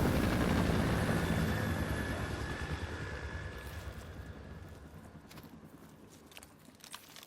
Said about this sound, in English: There's also a helicopter that will fly by.